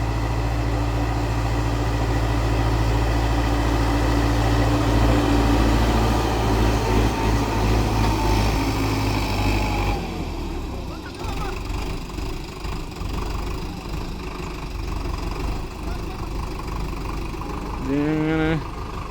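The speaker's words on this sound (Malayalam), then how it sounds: "ഇങ്ങനെയാണ് ഗൈസ് ട്രാക്ടർ തന്നെ കയറുന്നത്" A Shaktiman tractor engine works hard as it climbs a slope, a loud steady low drone that shifts in tone partway through, with a voice talking over it.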